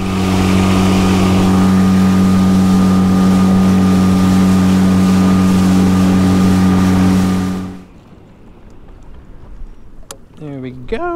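An H:Skiff 13 boat's outboard motor running on open water, a loud steady drone that cuts off abruptly, leaving quiet water and wind with brief voices afterward.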